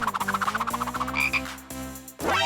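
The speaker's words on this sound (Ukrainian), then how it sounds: "ненавиджу жаб" A frog croaks in a fast, pulsing rattle of repeated calls, loud and close, ending in a longer, louder croak.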